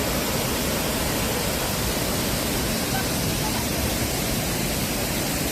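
Cheonmun waterfall in Heukseok valley at Suraksan pours in a steady, loud roar of broadband rushing water, constant throughout with no voices.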